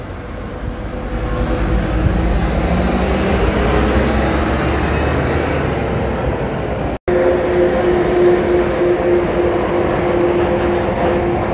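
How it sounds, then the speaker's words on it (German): An ICE train and a freight wagon rush past close by in a steady, loud rail roar with rumbling low wheel noise and a faint whine, continuing throughout with a brief dropout near the middle. "Auf der anderen Seite kommt ein schöner ICE und hier noch so ein komischer Güterwagen oder so"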